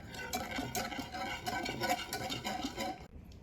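A batter being whisked into a cream mixture for a whiskey cake, a steady close rhythmic clatter of the whisk against the bowl that stops briefly near the end.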